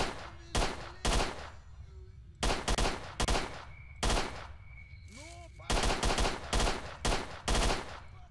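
Repeated bursts of automatic gunfire from the video game S.T.A.L.K.E.R.: Shadow of Chernobyl, loud, close volleys separated by short pauses, with a tonal beep and a brief whistling sweep between shots.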